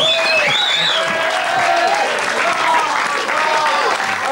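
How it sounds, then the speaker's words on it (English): A television studio audience breaks into loud, full applause that runs continuously throughout, with voices and whoops mixed in over the clapping. "Give Norman from Cartier's a round of applause."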